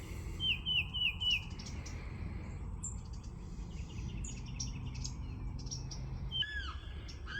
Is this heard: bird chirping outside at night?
yes